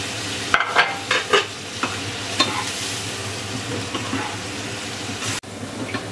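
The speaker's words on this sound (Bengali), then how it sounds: "পেঁয়াজটা আমি খুব সুন্দর করে কাঁচা গন্ধ না ছাড়া পর্যন্ত আমি একটু ভাজতে থাকবো" Onions fry in a pan for a Bengali-style tandoori chicken curry: a constant hissing sizzle, with several sharp spatula clacks and scrapes early on from close stirring.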